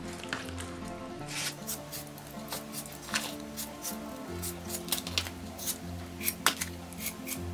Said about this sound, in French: Je vais couper pour faire pénétrer les assaisonnements.